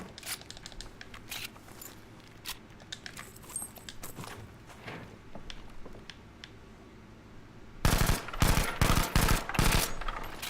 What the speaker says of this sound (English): So if you tap fire, you're basically going to hit every shot with this thing up to 25 meters